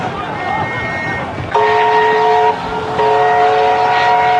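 A train departing with wartime refugees aboard in a World War II film: a low rumble, then loud, sustained horn blasts in chords that sound for several seconds, briefly break and resume.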